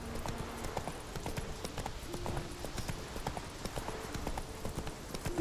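Horse hooves clip-clop at a steady trotting rhythm across ground in the video game Witcher 3, clear and moderately close, with a soft whinny-like tone and faint background game ambience.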